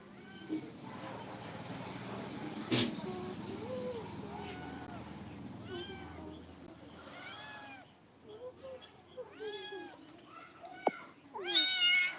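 A cat meows repeatedly, several plaintive calls spaced out and growing more insistent toward the end, close by with faint background noise.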